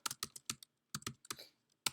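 Computer keyboard typed on during a programming lecture: a burst of quick, close, crisp key clicks in an uneven rhythm, with short pauses between clusters and no voices.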